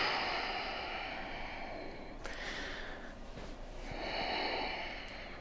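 Slow, deep breaths drawn in and let out through the nose during a pelvis stability exercise, close and quiet, with two long airy breaths separated by a short pause.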